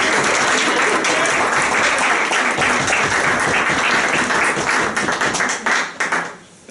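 A room audience at a speaking-skills meeting applauds as the speaker Charles is introduced. Dense, loud, close clapping holds steady for about five seconds, then thins out and dies away.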